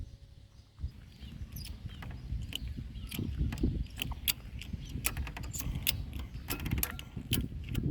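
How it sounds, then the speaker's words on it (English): A ratchet strap is cranked tight to push a shifted section of a house back into place, giving a run of sharp, close mechanical clicks at an uneven pace over a low rumbling background. "I'm just going to use this ratchet strap and see if we can get it to push back in."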